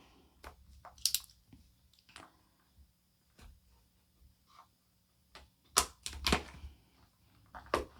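Sporadic crinkles, rustles and sharp clicks of a Pokémon VMAX Climax card box being opened and handled, quiet and close with irregular bursts and gaps.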